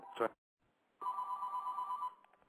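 A telephone line rings with an incoming call during a hockey radio show broadcast, one steady electronic ring lasting about a second, heard just after a brief voice.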